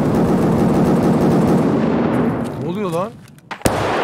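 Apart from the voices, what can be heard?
gunfire in video game Escape from Tarkov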